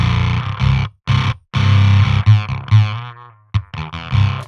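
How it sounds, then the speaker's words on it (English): An Otto Audio Blown Out Wall distortion pedal pushes a guitar into a fuzzy, overdriven, voltage-starved tone, loud chords ringing out and cutting off in short bursts, some notes sputtering and decaying unevenly between gaps of silence. "here's that like kind of overdriven but also voltage-starved sound that I was talking about"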